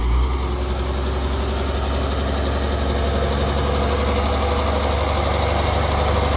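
Ford 7840 tractor engine labouring as it pushes against a tree stump, a loud, steady low diesel drone running without a break throughout, with no talk.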